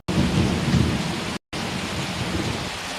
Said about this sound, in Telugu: జిల్లాలో పలుచోట్ల వర్షం కురవడంతో వాతావరణం చల్లబడింది.